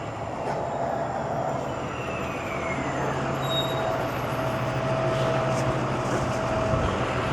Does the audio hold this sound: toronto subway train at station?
yes